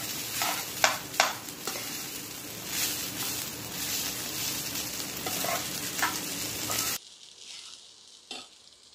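Kadhi pakoda mixture is stirred in a pan on the stove, with soft scraping strokes and occasional taps over a steady sizzling hiss, with no talking.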